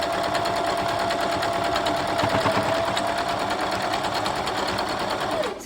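A sewing machine runs steadily and close up for several seconds while quilt block pieces are chain pieced, its fast rhythmic stitching hum unbroken until it stops at the end.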